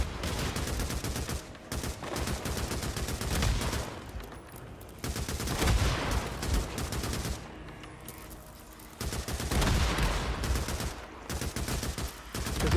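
Rapid gunfire in the zombie-survival video game Days Gone, sustained automatic bursts broken by short pauses, loud and close with no talk.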